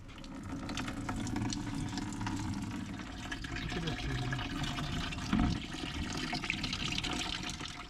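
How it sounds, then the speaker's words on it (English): Water pours and trickles steadily from the axles of an abandoned police car pulled from a swamp, a continuous close splashing drain with one brief heavier gush partway through. "Here comes the water from the axles."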